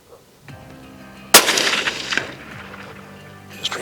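One sharp, loud rifle shot cracks out while hunting game in the Karoo, ringing briefly after the blast, with faint quiet sounds before it and a small knock near the end.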